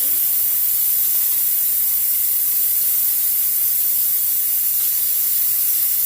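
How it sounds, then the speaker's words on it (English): A steady, loud hiss of steam escaping from a Pampered Chef Quick Cooker's pressure release valve after cooking Thai coconut soup carries on unbroken throughout. "we're going to release our steam."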